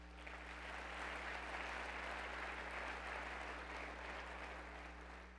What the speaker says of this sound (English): join me in a nice round of applause